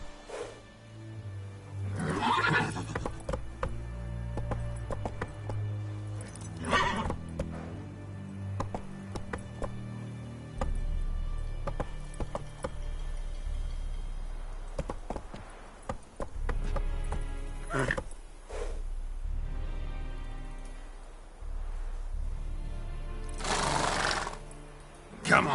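Roach the horse in The Witcher on PS5 gives a few scattered whinnying bursts and a ticking of hooves over game ambience and music, while a voice calls out now and then.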